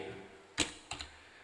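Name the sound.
typing on a computer keyboard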